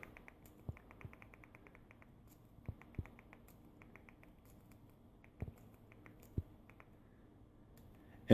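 Scattered soft clicks from a Fire TV Stick remote while a wireless password is entered on screen, single and quick-fire presses spaced irregularly against a quiet background.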